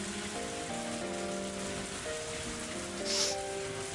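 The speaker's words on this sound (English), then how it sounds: "My body exposed to the cold rain" Steady game rain from Higurashi When They Cry hisses across the whole stretch, a constant wash of drops mixed under soft background music, with no voices.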